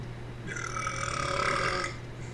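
A single long, loud burp from a person rolls out for over a second, close and alone with no talk.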